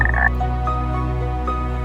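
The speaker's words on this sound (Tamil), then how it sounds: "மழை அடிக்கடி பெய்ய தவளைகளின் பாட்டு அதிகரித்தது" Frogs croak steadily during rainy weather, a close, continuous chorus of layered calls with a sharper burst at the start and no talking.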